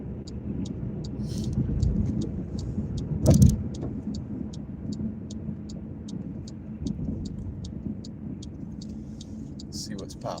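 A car rolls slowly into a parking lot with a steady low engine rumble and road noise, a regular ticking indicator above it and a brief bump partway through.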